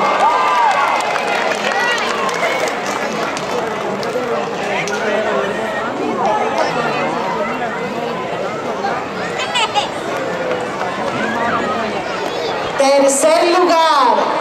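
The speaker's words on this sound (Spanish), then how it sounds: "Un aplauso." A school pageant audience cheers and claps in a dense, steady roar of many voices, with shouts and whoops rising above the crowd noise throughout.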